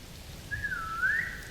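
A person whistles a single short gliding note, close and clear, over a quiet low background hum.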